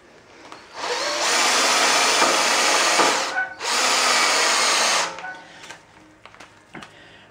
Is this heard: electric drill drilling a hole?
yes